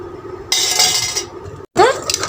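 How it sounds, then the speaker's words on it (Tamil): Gram flour whisked with oil in a bowl for a dates laddu, a busy scraping and clinking of whisk against the bowl that stops briefly and then resumes with no talk. "அதில் 1 பங்கு ஆயில் ஊற்றி நல்லா விஸ்க் வச்சு நல்லா கலந்து எடுத்துக்கலாம்"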